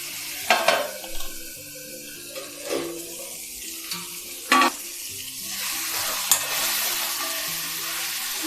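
Tomato thecha seasoned with salt is stirred in a hot pan, giving a steady soft sizzle broken by several sharp spoon scrapes and clinks against the metal, close and alone without speech.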